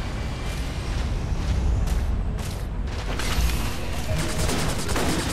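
Gunfire crackles at a firing range in the sci-fi shooter Section 8: Prejudice, with dense overlapping rapid bursts and booming impacts continuing loudly throughout, mixed with mechanical clatter.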